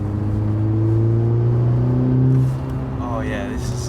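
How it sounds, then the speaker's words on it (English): A turbocharged Volkswagen Golf hatchback accelerates, its exhaust giving a loud, rising, droning growl that peaks and then drops as the revs fall, with a brief voice near the end. "The exhaust makes a world of difference, especially in the cabin."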